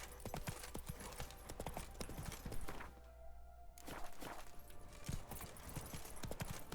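Horse hooves clip-clop steadily in The Witcher 3: Blood and Wine, a continuous rhythmic trot mixed with game ambience, with a brief lull midway before the hoofbeats resume.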